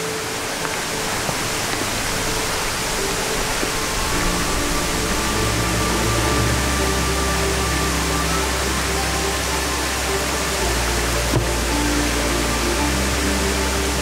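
Dirty water pours steadily through a homemade cut-bottle filter layered with rocks and ferns, giving a continuous loud rushing, splashing wash that stays even throughout.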